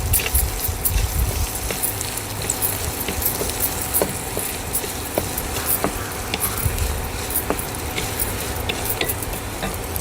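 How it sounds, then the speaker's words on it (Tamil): Finely chopped large onion with cumin seeds sizzles steadily in a pan during outdoor terrace-garden cooking, with occasional sharp clicks of stirring over a continuous frying hiss. "அடுத்தது பெரிய வெங்காயம் 1 பொடி பொடியாக நறுக்கி வச்சுக்கோங்க,"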